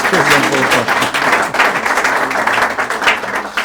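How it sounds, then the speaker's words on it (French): An audience applauds during a French-language broadcast programme, with dense, steady clapping that fills the whole stretch at close range and some voices mixed in underneath. "On peut l'applaudir aussi."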